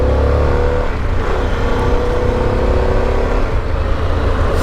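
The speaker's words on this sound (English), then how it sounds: "I literally didn't see that car move until the last second." A car moves past close by on a road near a house, a loud steady engine rumble with a low drone that holds throughout.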